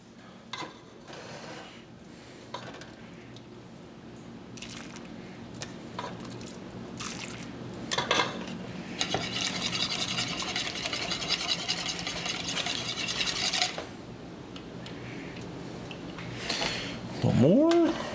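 A whisk stirs a warm, sugary milk and cream mixture into eggs in a bowl for soft serve custard, making soft wet swishing and light clinks that grow busier midway through.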